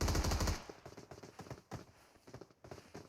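In a PUBG Mobile match, a loud burst of rapid automatic gunfire is followed by scattered, fainter sharp shots and impacts at irregular intervals.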